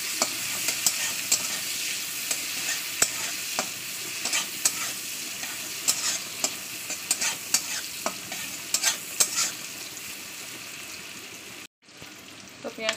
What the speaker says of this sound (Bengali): পেঁয়াজটা একটু লাল লেগে ভাজা করতে হবে।